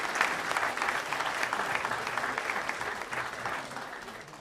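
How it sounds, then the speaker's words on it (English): Audience applause at a Gambian diaspora community gathering in the UK, a steady wash of many hands clapping that gradually fades toward the end. "give a big round of applause to every single community leader from all the cities in the United Kingdom"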